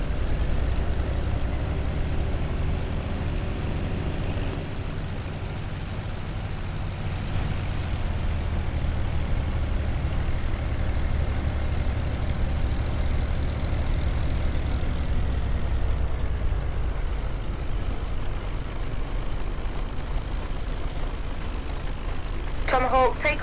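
A P-40C Tomahawk aircraft engine running before takeoff, a steady, loud, low propeller drone that holds evenly throughout and sits close and constant.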